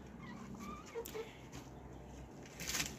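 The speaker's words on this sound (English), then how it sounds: "I absolutely love these chickens" Soft clucking from a few chickens nearby, scattered low murmurs and short calls in a quiet outdoor setting with faint rustling.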